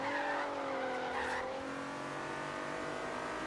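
A Nissan 350Z in Forza Horizon 3 braking hard from about 300 km/h, engine tone winding down with tire squeal, steady and fairly quiet with no talk.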